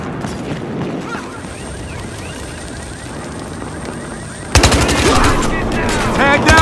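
Video game Battlefield Hardline gunfire: faint distant shots and chatter at first, then a sudden loud burst of rapid automatic fire erupts close by and keeps hammering, with voices mixed underneath.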